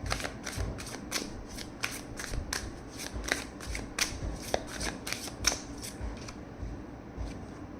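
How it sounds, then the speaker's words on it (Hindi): Tarot cards shuffled by hand in a rapid run of crisp riffling flicks, a steady burst of papery snaps lasting several seconds, close and fairly quiet with no talking. "यहाँ से कुछ कार्ड्स निकालने वाली हूँ।"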